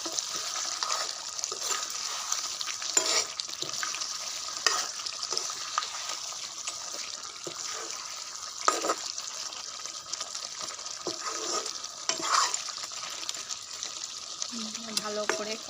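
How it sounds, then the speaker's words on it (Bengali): Duck meat and potatoes being stirred and sautéed in a pan, with a steady light sizzle and intermittent spatula scrapes and clatters at close range, no talking. "দিয়ে এটা ভালো করে কষিয়ে নেব।"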